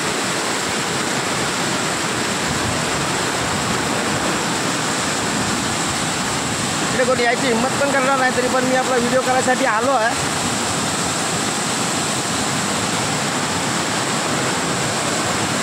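Torrential floodwater in Kanakavali surges after a cloudburst of heavy monsoon rain, a loud, steady broadband roar close by that runs the whole time under someone talking.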